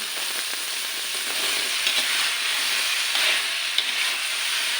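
Vegetable pieces drop into a hot, well-fried tadka with the oil separated, and a loud, steady sizzle hisses without pause for several seconds. A few soft stirring clinks sit under it, and no one speaks.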